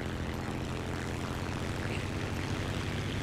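A propeller aircraft engine drones steadily in War Thunder, a dense, constant mid-level hum that runs throughout without speech.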